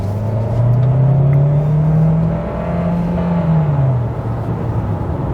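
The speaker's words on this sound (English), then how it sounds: "I could hear a lot of that gasoline engine, and that's because the battery is charging right now" The gasoline engine of a 2022 Kia Sorento plug-in hybrid SUV, charging its battery, drones steadily and loudly throughout, its low hum rising slightly in pitch and then easing back down, with no talking.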